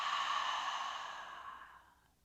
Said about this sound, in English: And then, of course, our fogging up the mirror sound.